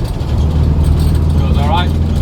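A VW T2 camper with ICT34 carburettors accelerates with the pedal floored, its engine droning loud and close in a continuous low rumble.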